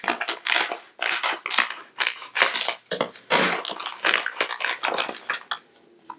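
Scissors snipping open a plastic blind bag holding a Kidrobot Marvel Labbit figure, a continuous run of close crinkling, crunching plastic and cutting sounds with no speech.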